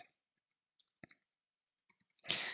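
Sparse, crisp clicks from a computer mouse or keyboard, a few isolated taps spaced irregularly, close and quiet, ending in a short burst of broadband noise.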